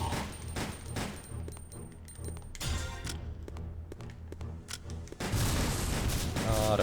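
Shotgun blasts in Resident Evil Survivor 2 Code Veronica thump out as a string of punchy booms over an ongoing game soundscape, with a louder stretch of heavy firing near the end.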